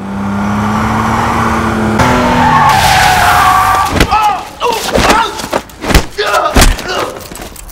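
A car in a movie chase revs hard with engine drone, then tires skid and squeal amid thuds and impacts, loud and close, with some voice sounds mixed in.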